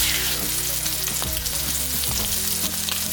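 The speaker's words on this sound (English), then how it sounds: "While the steak is sizzling away," Grass-fed beef steak sizzling steadily in a cast iron skillet with a little neutral oil and butter, a dense, continuous fry with faint crackles and no talk.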